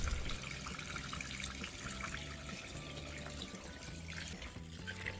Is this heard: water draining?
yes